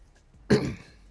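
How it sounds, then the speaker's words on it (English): A single short, throaty clearing of the throat by a man, close and fairly loud, standing out sharply against near silence. "I'm probably starting to get sick or something, clearing my throat more often."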